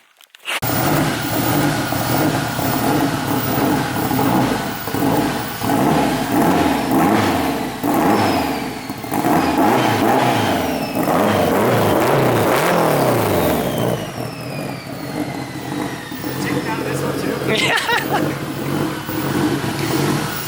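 A turbocharged 600 hp AWD Honda Civic engine revs loudly and steadily up close, pitch climbing and falling through repeated throttle sweeps, with a whooshing whine over the roar.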